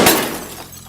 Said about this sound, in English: I heard a loud bang followed by my rear windshield shattering